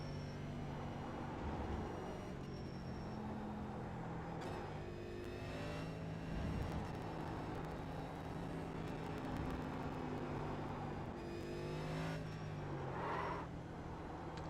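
A NASCAR Next Gen race car in iRacing at COTA drones steadily at moderate volume, its engine note rising and falling with gear changes and throttle, tyres briefly squealing as it brakes into corners.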